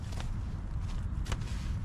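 Footsteps crunch on the ground just outside a tent at a campsite, a few muffled steps within heavy low rustling noise.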